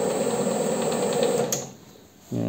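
A metal lathe with its motor set to about 40 Hz finishing a cut on a workpiece, a steady close whine and hum that drops away midway, then a motor tone returns near the end, no voices.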